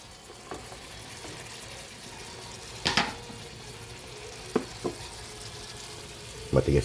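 Onions sautéing in a pan for stir-fried bean sprouts give a soft continuous frying hiss, with a few scattered clacks and scrapes of a utensil against the pan, and no voices.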